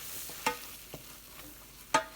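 Flour being stirred into melted butter in a pan over medium heat, soft scraping of a spoon with a few sharp clinks against the pan over a faint sizzle.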